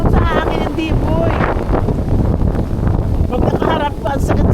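Strong wind buffets the microphone outdoors on a snowy mountain, a loud continuous roar and rumble that runs the whole time while voices talk over it.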